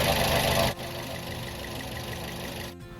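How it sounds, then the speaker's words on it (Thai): A 2008 Toyota Vios engine idles steadily at close range, a low continuous rumble with a faint rhythmic knock; a louder burst opens before it settles. "ต้องสตาร์ทเครื่องยนต์ทิ้งไว้สักครู่นะครับ"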